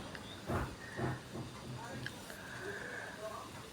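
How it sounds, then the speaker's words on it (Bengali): Taro pieces fry in hot oil, giving a continuous soft sizzling hiss at low level. A faint voice is heard briefly over it. "তো এগুলো লাল লাল করে ভেজে নিলাম।"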